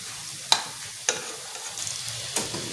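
Bread finger chips deep-fry in hot oil with a soft continuous sizzle, broken by a few sharp clicks and taps of a utensil against the pan.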